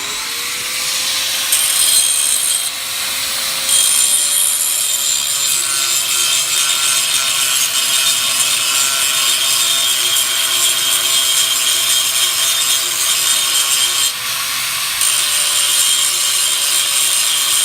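A grinder works a flat spot into a steel expansion pipe for a KE102 motorcycle, a loud continuous rasping whine that holds steady for the whole stretch. It sounds close and dips only briefly a couple of times.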